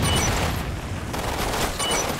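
A grenade blast in the shooter game Umbrella Corps, loud and close, spreading into dense, sustained rumbling noise mixed with rapid gunfire-like crackle for a couple of seconds, with no voices over it.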